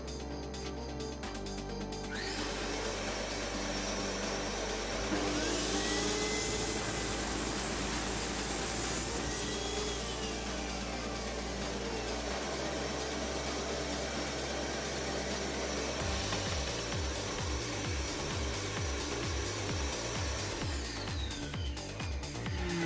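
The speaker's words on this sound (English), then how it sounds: "you'll first hear my Hoover starting up, my vacuum cleaner, and then you'll hear the saw" A vacuum cleaner whines steadily, then a DeWalt DWS773 sliding mitre saw spins up and cuts with a rising high-pitched scream before winding down, the machine droning throughout.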